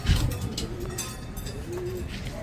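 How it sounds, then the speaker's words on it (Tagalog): Young racing pigeons cooing softly in a loft during training, a low steady murmur of coos with faint shuffling, no talk. "Oy, ibon ni Kuya Jay ito."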